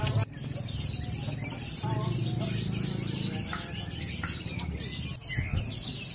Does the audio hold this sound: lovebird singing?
yes